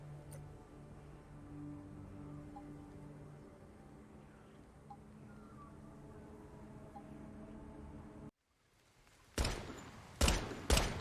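Gunfire at a shooting range in the survival looter-shooter game Once Human, with a few loud, sharp bursts near the end following a long stretch of ambient game background.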